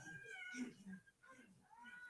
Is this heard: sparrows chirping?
no